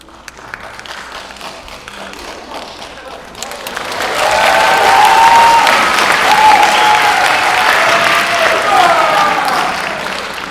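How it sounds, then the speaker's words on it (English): Audience applause at a Beatles tribute concert swells in after a quiet opening, rising into loud sustained crowd clapping with some cheering mixed through the rest. "That deserves applause just for the concept"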